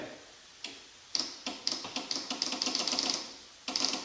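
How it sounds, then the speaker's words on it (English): Sharp mechanical clicks of relays in a classic BMW 2002 with a turbo swap, a few isolated at first, then a rapid irregular burst of clicking before a final click, close and alone. "then I'd probably hear all these relays clicking"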